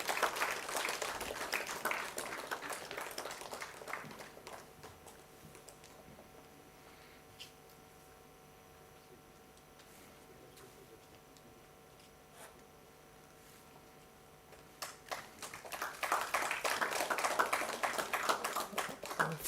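An audience at a science prize-giving ceremony in Goa claps for a first-place winner, dense applause swelling at the start, dropping to a quiet lull, then rising loudly again near the end.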